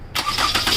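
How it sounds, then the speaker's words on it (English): A car engine cranks and catches, rising from quiet into a loud, close, rough running roar within a second. "Now we are gonna start the car"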